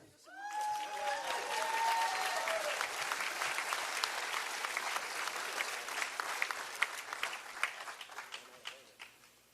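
An audience at a fire rescue graduation ceremony breaks into applause for a graduate, rising quickly to a dense, sustained clapping that thins toward the end, with some brief vocal sounds early on.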